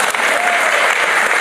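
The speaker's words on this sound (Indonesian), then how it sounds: "Puji Tuhan, tepuk tangan semua bagi Tuhan." A church congregation claps together in praise, a dense, steady burst of many hands at close range that carries on evenly with no voices over it.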